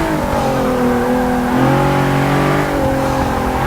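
Nissan GT-R twin-turbo 3.8-litre V6 from 2012 revving hard in the Forza Motorsport racing game, a loud, steady engine drone with rising and shifting pitch, heard alone.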